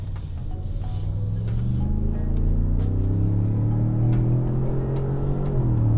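A 2019 Ford F-150 Limited pickup engine pulls hard as it accelerates, its low drone climbing steadily in pitch through the gears, heard from inside the cab.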